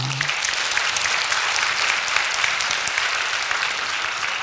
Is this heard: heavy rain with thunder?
no